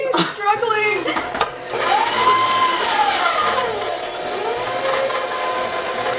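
Stand mixer churning crème brûlée sugar cookie dough in its bowl, a steady whirring motor drone running throughout with voices talking over it.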